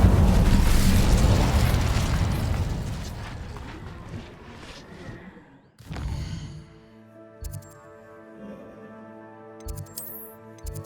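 Roaring, crackling burst of the Incendio fire spell in Hogwarts Legacy, loud at first and gradually dying away over several seconds, then a sharp crash followed by quieter tonal game music and chimes.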